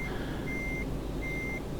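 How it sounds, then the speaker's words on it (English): A truck's reversing alarm in Euro Truck Simulator 2 gives two evenly spaced, sustained beeps over a low, steady engine rumble, with no talk over them. "that beeping's annoying."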